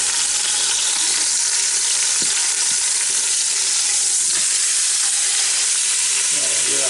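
Pot roast searing in an Instant Pot, a loud, continuous hissing sizzle that stays close and steady, with a few faint knocks as the meat is turned.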